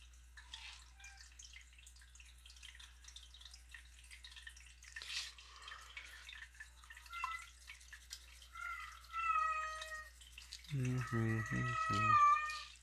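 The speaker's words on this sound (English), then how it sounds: "Oh my god, my freaking cat's gonna be in heat" A cat lets out loud, drawn-out meows near the end, rising over quiet background noise and faint dripping water.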